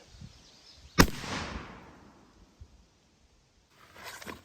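A single sharp shot from a Pietta Remington New Model Army revolver loaded with a Johnston and Dow conical bullet, loud and close, followed by a decaying outdoor echo, then a brief rustle near the end.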